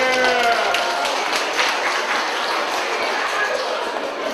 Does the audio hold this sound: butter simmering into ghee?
no